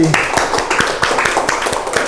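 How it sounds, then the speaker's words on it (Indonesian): Vocational school photography class clapping hands for a student, a short burst of rhythmic, fairly close claps with a voice speaking over them. "Tepuk tangan buat Neri."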